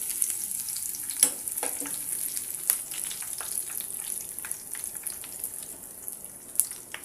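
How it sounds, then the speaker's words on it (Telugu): Mustard seeds splutter and pop in hot oil for tempering a stuffed brinjal curry, a steady close sizzle broken by frequent sharp crackles, with no talking. "పోపు గింజలు అనేటివి బాగా చిటపటలాడాయి కదా"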